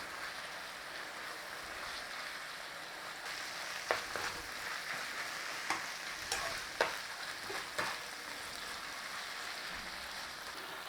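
Tomato paste being stirred into meat filling frying in a pan for an Australian meat pie, a steady close sizzle with scraping spoon strokes and a few sharper clicks partway through.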